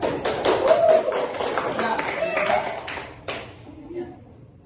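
Scattered hand clapping from a small group after a call to applaud, a few sharp claps standing out, with a voice talking over part of it.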